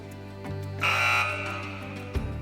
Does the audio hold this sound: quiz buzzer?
yes